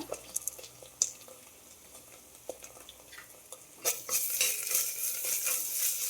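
Ginger garlic paste going into sautéing onions for a chicken gravy, with scattered spoon taps and stirring, then a loud hissing sizzle that starts suddenly and carries on to the end.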